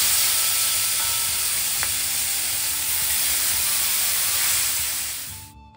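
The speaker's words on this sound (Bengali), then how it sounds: "হলুদ লবণ মেখে ভালো করে মাছগুলোকে ভাজা ভাজা করে নিই" Small fish coated in turmeric and salt fry in a pan, giving a steady, close, loud sizzling hiss that holds through the clip and then drops away sharply at the end.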